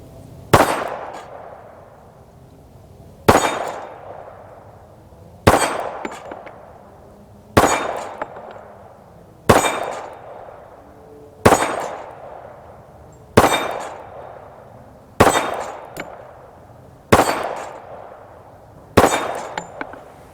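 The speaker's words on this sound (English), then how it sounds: "I see a flapper needs shooting" Shots from an M&P pistol hit a steel flapper target: about nine sharp, loud reports, each with a ringing metallic clang that fades out, spaced roughly two seconds apart, with no talking.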